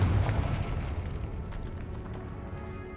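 The Confringo spell explodes in the Hogwarts Legacy video game as a heavy, booming blast at the outset, trailing into a long rumbling decay with faint crackles.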